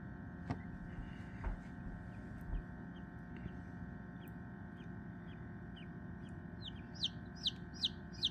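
Newly hatched baby chick chirping during a hatch, with a few faint peeps early and a quick run of louder, high repeated chirps near the end over a steady low hum.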